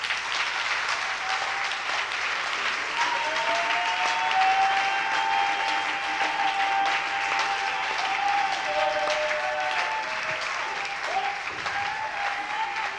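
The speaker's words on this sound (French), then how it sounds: "si Douala me suit, vous applaudissez comme à Yaoundé." A church congregation in Douala breaks into sustained, dense applause that fills the whole stretch evenly, with a faint tonal sound running under the clapping.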